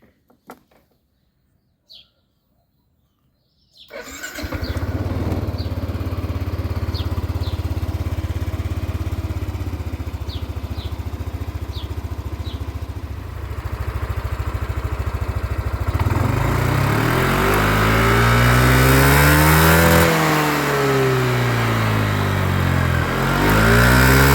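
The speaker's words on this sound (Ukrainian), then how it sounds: "Двигун працює без жодних нарікань." After a few seconds of near silence, the 125cc engine of a 2017 Yamaha N-Max scooter sputters to life and idles steadily, then revs up and down repeatedly, loud and close.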